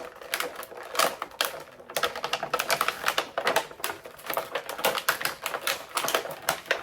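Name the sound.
action figure being pulled out of plastic packaging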